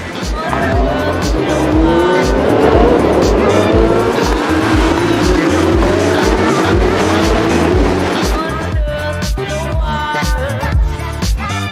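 IMSA and IndyCar race cars roar past on the Detroit Grand Prix track with rising and falling engine whine and tire squeal, loud and close, while a voice talks over them.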